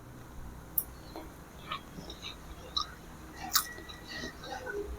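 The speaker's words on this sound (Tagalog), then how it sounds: "Perfect bite para sa embutido ni Jojo." Someone chewing a bite of embutido, a Filipino meatloaf, with soft, close, irregular crunchy chewing and mouth noises at a low level.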